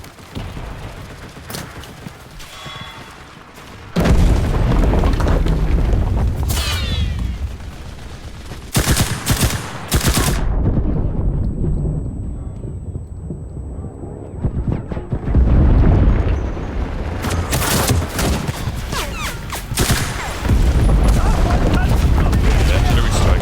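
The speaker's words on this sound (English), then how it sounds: "The artillery strike hits." A video game artillery strike rains down in a sustained barrage of heavy booms and rapid blasts, loud and dense with short lulls between volleys, while voices call out over the gunfire.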